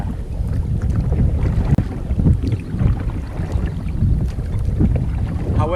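A 10-foot Lifetime Sport Fisher Angler 100 fishing kayak paddled on open water, with a continuous close wash of water and wind buffeting the microphone, a slight bump partway through, and no talking.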